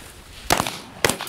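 Two loud, close shotgun blasts about half a second apart ring out at a flushed chukar during an upland bird hunt, each a sharp crack with a brief decay.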